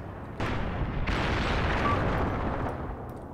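Tank gunfire and explosions in Graviteam Tactics: Mius-Front, a World War II tank battle against Soviet infantry, come as a sudden loud blast followed by a second, both rolling into a sustained, dense rumble of combat noise.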